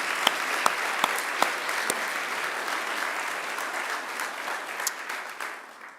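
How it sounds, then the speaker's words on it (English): Graduates clapping together in a sustained wave of applause at a Macquarie University graduation ceremony, a dense, steady roar of many hands with a few sharper claps standing out, fading slightly toward the end. "give yourself a resounding wave of applause"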